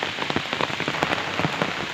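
Heavy monsoon rain pours down in the Konkan countryside, a dense, close patter of drops striking surfaces in a continuous hiss.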